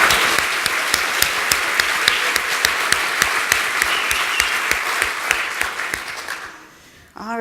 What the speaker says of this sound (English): one more round of applause for all of our new thank you